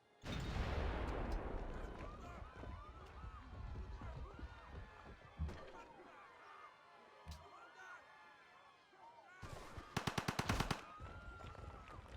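Artillery and gunfire from the strategy game Civilization V come as bursts of booming shots and rapid rattling volleys, with a tight cluster of sharp repeated bangs near the end. A voice talks faintly underneath.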